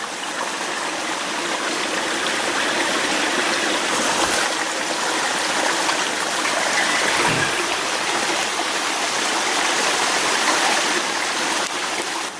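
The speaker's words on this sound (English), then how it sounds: "I hear the creek in the distance." A hillside creek rushes in a steady, unbroken wash of flowing water, constant and fairly loud throughout, with no voices.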